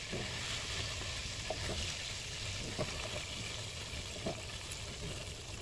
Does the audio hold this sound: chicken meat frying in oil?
yes